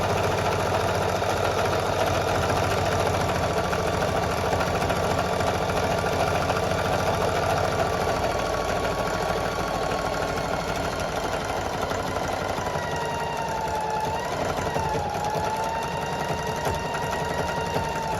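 A sewing machine stitching strips for a jelly roll rug runs in one steady, continuous mechanical whir for the whole stretch, close and moderately loud with no pauses.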